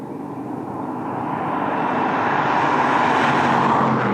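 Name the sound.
Ford Mustang Dark Horse driving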